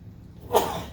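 A single sneeze bursts out in a lecture room, short and fairly loud, rising sharply from near silence and fading within a second.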